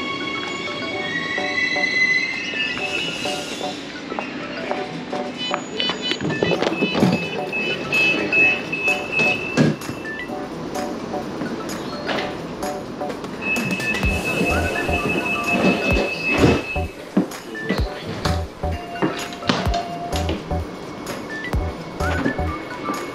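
Interior of a moving passenger train on a morning ride, with steady rumble and rhythmic clacking of wheels over rail joints, occasional squeal and creak, and some faint talk in the carriage.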